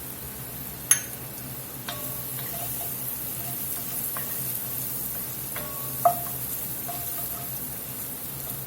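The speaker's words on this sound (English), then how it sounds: "we've been cooking up here about 8 minutes. Them onions is starting to slightly caramelize and get sweet" Onions caramelizing in a pan for a beef short rib ragu give a steady, moderate sizzle, with a few sharp clicks of a utensil against the pan and no talking.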